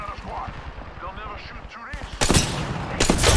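Rapid bursts of gunfire in a first-person shooter game, a dense loud volley erupting after a stretch of excited talk and continuing to the end, with a second burst near the close.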